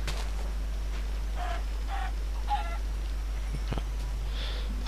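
Chickens cluck in Minecraft, three distinct clucks in a steady sequence followed by a few fainter clicks and a brief high call, all over a constant low hum.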